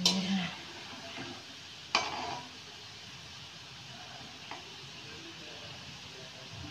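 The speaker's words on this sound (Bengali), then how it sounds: "আমি লাল করে ভেজে একাই তুলে নেব।" Gulab jamun frying in oil make a faint, steady sizzle with a few quiet ticks and pops scattered through it.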